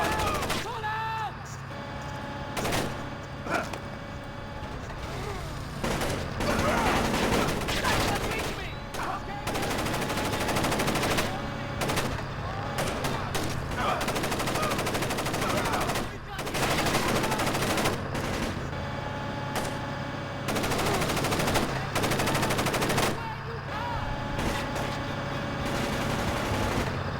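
Sustained gunfire in a firefight in the 2005 stealth video game Splinter Cell: Chaos Theory, with repeated loud automatic bursts and single shots throughout, layered with shouting soldiers and battle ambience.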